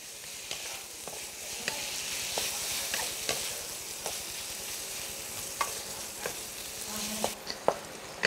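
Tomatoes stir-fried with green beans and shrimp in a pan, a steady close sizzle broken by sharp, irregular clicks and scrapes of a spatula throughout.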